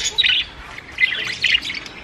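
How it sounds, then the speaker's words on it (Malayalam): Pigeons at a farm call in short squawking bursts, three brief clusters of bird calls close by over quiet background. "ഇപ്പൊ ഒരുപാട് പ്രാവുണ്ട് ഇവിടെ."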